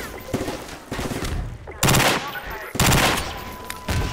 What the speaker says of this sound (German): Hör auf mich zu schießen